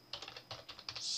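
Rapid keystrokes on a computer keyboard while entering a web address into the Microsoft Edge browser search box on Windows 10, a quick irregular run of close, crisp clicks with no voice over them.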